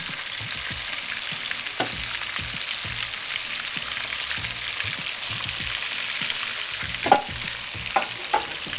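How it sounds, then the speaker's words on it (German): Low-carb Turkish-style köfte meatballs frying in a pan with a steady, close sizzle, occasional clatters as the pan is shaken, and no talk. "Im Hintergrund schmoren unsere Köfte"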